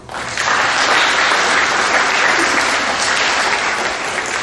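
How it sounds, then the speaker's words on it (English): A middle school awards assembly breaks into dense, loud applause for the 8th grade boys track team, a sustained wash of many hands clapping evenly for several seconds without talk. "they also deserve a round of applause"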